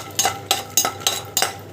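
Chana dal and mustard seeds frying in hot oil, stirred with a utensil in five regular scraping strokes over a soft, steady sizzle, close and without talk.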